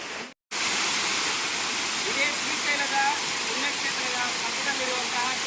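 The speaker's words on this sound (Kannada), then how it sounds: "ಮೇಲ್ಗಡೆಯಿಂದ ನೀರು ಹರಿದು ಬರ್ತಾ ಇದೆ ನೋಡಿ" A waterfall at Siddaramappa Kolanu near Srisailam roars with a loud, steady broadband rush of falling water after a brief silent gap at the start.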